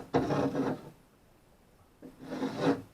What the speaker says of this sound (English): I'm using a chisel.